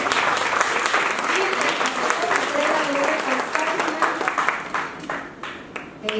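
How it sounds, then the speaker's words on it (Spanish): Strong audience applause fills a lecture hall at a conference on religious meaning in education, dense clapping that holds steady then thins out toward the end. "les pediría por favor otro fuerte aplauso"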